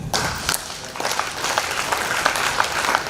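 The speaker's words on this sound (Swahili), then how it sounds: "wakati wanarudi wapigeni makofi" Church congregation clapping for people returning to their seats during a Swahili sermon, a bright patter of many hands with a few sharper individual claps standing out, steady and close.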